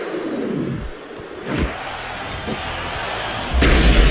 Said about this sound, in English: we've got the choke slam from hell